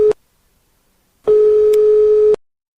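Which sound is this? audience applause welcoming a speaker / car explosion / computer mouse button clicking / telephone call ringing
telephone call ringing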